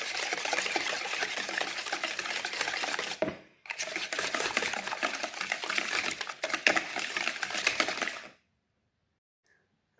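An electric mixer whirs steadily through crepe batter made with eggs and butter, a continuous close buzzing that cuts out briefly, resumes, then stops.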